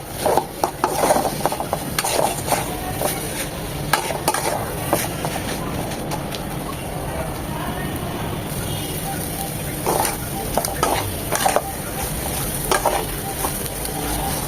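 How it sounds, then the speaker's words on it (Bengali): Coconut filling for dudh puli pitha fried and stirred in a pan, giving steady scraping and rasping strokes of a spoon with a faint sizzle underneath, continuous and close with no talking. "এটা একদম ভাজা ভাজা হবে টাইট হবে"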